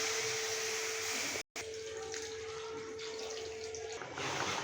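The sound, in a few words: pouring water into a pan of chicken curry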